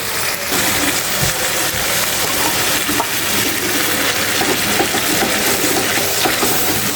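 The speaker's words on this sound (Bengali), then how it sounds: "সুন্দর করে নেড়ে ছেড়ে একবারে কষিয়ে নেব রোস্টের মশলাটা" A roast chicken spice paste of ground cashews, pistachios and peanuts with yogurt fries in a pan while being stirred, giving a loud, steady, close sizzle that does not let up; no one talks.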